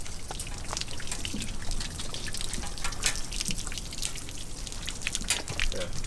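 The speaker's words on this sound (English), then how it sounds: "So there's some water coming in." Water trickles and drips into the hull of a twin-turbo jet drag boat, a soft steady patter of small splashes and drips with no voices.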